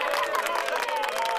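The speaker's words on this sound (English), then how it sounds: "Let's give him a big round of applause." A large audience in a kids' cartoon breaks into applause at a magic show, a dense continuous burst of clapping mixed with crowd noise and light cheering, loud and close, with no voices on top.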